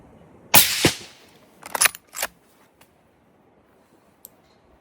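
Rifle shot while stalking Chinese water deer in the UK, a single sharp crack that decays quickly, followed by a couple of close clicks and handling noises, then near silence.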